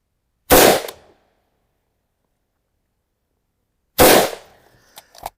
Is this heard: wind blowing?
no